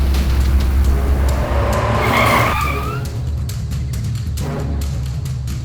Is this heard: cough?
no